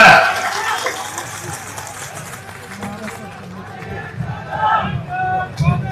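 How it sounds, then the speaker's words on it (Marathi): A crowd at a political rally in Maharashtra cheers and claps. The noise is loudest at first, dips in the middle, and swells again toward the end. "जोरदार टाळ्या."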